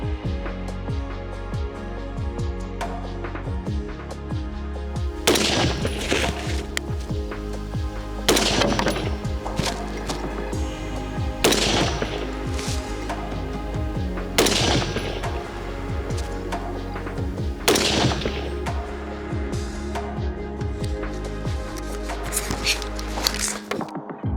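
AR-15 carbines with 16-inch barrels fire at 300 metres on a shooting range, with several sharp, loud reports spaced a few seconds apart over a steady low background rumble.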